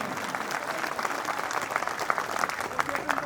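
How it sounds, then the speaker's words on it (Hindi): An audience at an honours ceremony during a Koytod Gondwana Mahasabha state convention in Madhya Pradesh, 2024, applauds. The steady clapping runs throughout at a fairly quiet, even level. "जोरदार तालियों से स्वागत करें।"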